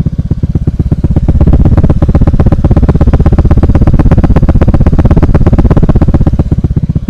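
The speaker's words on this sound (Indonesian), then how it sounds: "suara knalpotnya?" Modified motorcycle with a bobokan knalpot exhaust idles right at the microphone, a loud, deep, rapid and even pulsing throb that holds steady throughout without revving.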